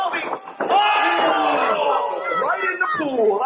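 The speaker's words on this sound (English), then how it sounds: "The crowd is going crazy for Bovey." A crowd screams and cheers wildly at a Comptonmania event, loud and sustained, with excited shouting voices mixed in throughout.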